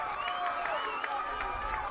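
Crowd at a youth baseball game cheering after an out, a steady dense murmur of many voices with excited calls and shouts throughout, moderately loud and continuous.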